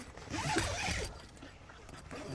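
A zipper being drawn open on a Jeep rooftop tent, a close, continuous ratcheting rasp that swells for about a second and then trails off into quieter fabric rustling.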